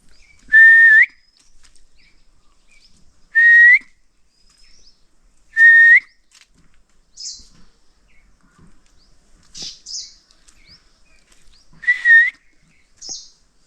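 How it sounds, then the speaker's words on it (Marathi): A person whistles a clear rising note three times at steady intervals, and a bird answers with short, high chirps and calls in between, in a quiet rural village setting in Konkan with trees nearby. "म्हणजे शिट्टी वाजवतोय ना त्याला उत्तर देतो आहे"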